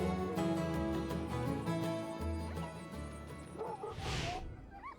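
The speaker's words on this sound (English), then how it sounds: "Charlie Odegaard making some final preparations to his string of dogs." Sled dogs in a string being readied before a mail-run sprint race bark and yip busily over a loud outdoor din, with a burst of higher yelping near the end.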